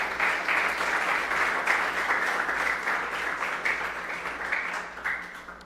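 A church congregation applauds steadily, a dense, loud wash of many hands clapping that holds for several seconds and tapers only slightly near the end, with no voices speaking over it.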